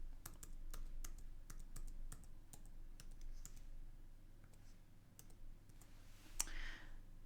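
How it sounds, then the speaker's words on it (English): A library card number is typed on a computer keyboard: a quick run of light, crisp key clicks in irregular rhythm over a low steady hum, thinning out near the end. "so I'm going to type that in."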